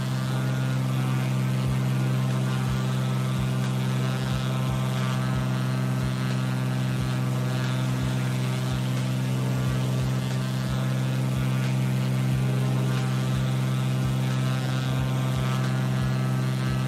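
A TBM 930 turboprop aircraft engine in Microsoft Flight Simulator drones steadily throughout, a constant loud hum with a strong low tone and rhythmic propeller pulsing, unchanging for the whole stretch.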